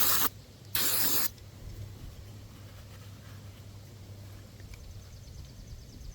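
Two short, loud hissing bursts of spray cleaner go into the throttle body intake of a Chevy Equinox, Traverse or Trailblazer, the second longer, followed by quiet low hum.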